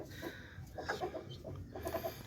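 A large Rhode Island chicken, its spurs just trimmed, clucks in short soft bursts at close range, repeating several times over a low background hum.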